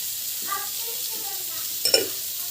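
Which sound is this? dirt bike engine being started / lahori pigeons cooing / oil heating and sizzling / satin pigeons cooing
oil heating and sizzling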